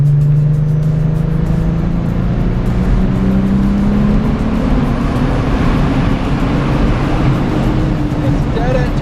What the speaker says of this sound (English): We got some fuel pressure building up.